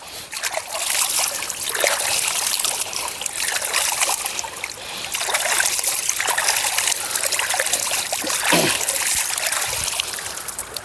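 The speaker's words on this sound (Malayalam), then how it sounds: "ഇനി കൈയൊക്കെ ഒന്ന് വാഷ് ചെയ്യാം. നല്ല ശുദ്ധമായ വെള്ളം കേട്ടോ" Hands being washed in clean flowing water outdoors, a close trickling and splashing stream with uneven bursts of splatter as the hands move through it.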